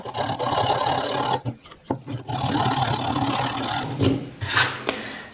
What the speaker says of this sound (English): I recommend replacing the knife with a piece of sandpaper and just shaping the hole like this.